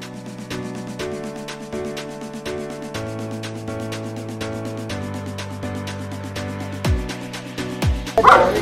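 An aggressive dog barks in quick, evenly spaced bursts, loud and close, with a rougher scuffle of sound near the end.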